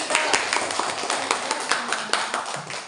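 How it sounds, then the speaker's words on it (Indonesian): A small class claps for a student group in a lesson, a brisk patter of hand claps with distinct sharp individual claps standing out in an uneven rhythm, close and fairly loud throughout. "Oke, tepuk tangan dulu untuk kelompok 3."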